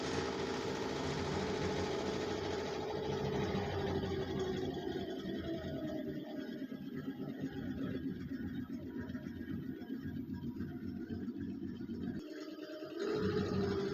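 An embroidery sewing machine stitching a design at a boutique, a steady rapid mechanical hum and chatter running continuously, briefly dropping out near the end before resuming.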